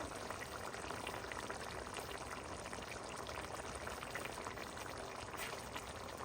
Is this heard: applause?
no